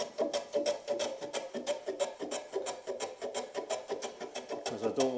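A hand tool rasps heavily across the end of a wooden workbench leg, beveling it in a fast, regular series of scraping strokes, close and crisp with no talking.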